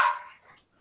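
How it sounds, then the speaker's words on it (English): A single short, close dog bark or yip that starts sharply and trails off in under a second. "bark, bark."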